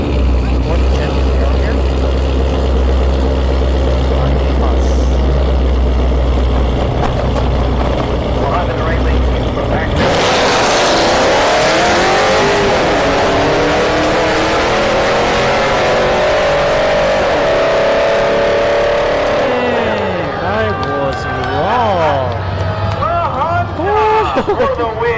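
Drag race cars at a no-prep event at Orlando Speed World, a Honda Insight against a Camaro: loud engine roar with a sharp surge midway as revving climbs and sweeps, under an announcer talking throughout.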